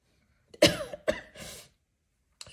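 Two sharp coughs close together, followed by a softer breathy clearing, then silence with a faint breath at the end.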